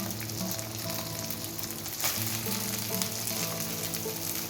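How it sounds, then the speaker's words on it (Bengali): Chow mein noodles fry in oil in a wok with a steady, dense sizzle that holds at an even level throughout, alone with no voices. "কড়াতে তারপর আরেকটুখানি তেল দিয়ে আমি চাউমিনটা প্রথমে ভেজে নেব।"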